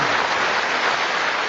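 Studio audience applause at a motoring comedy show, a dense steady wash of clapping filling the whole short moment, loud and continuous with no voices.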